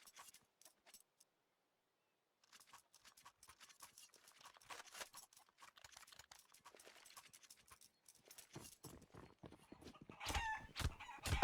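Clucking chicken in the Counter-Strike Inferno map during a competitive match, with short clucks and rapid clicking footstep-like taps and gunfire-like bursts building in loudness toward the end, no speech.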